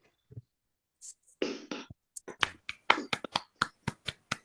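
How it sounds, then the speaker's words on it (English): Scattered hand claps from a few video call participants after a math talk, starting sparse and building into a quick irregular run of distinct claps, each crisp and close, with brief gaps of silence. "Let's all unmute briefly and clap."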